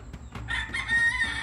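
At the chicken coops beside a house, a rooster lets out a single brief crow among scattered clucking hens, somewhat distant and fairly faint.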